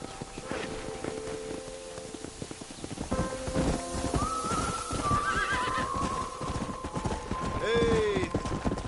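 A horse in the video game Red Dead Redemption neighs loudly near the end, with steady clip-clop hoofbeats and shifting game sounds throughout.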